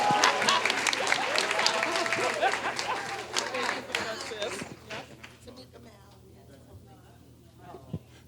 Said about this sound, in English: Round of applause to our panelists.